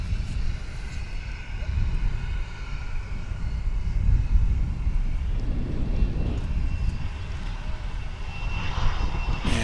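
American Airlines flight 1117 jet departing DFW International Airport for Kalispell, Montana, rumbles loudly and continuously, a deep engine roar swelling midway with a hissy rise toward the end and no talk.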